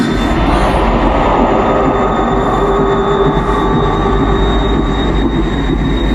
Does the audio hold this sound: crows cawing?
no